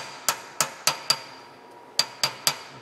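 A hammer taps a machined part down into a machine vise, seven sharp metallic strikes in two groups, four evenly spaced then a pause and three more, close and clear with no talk.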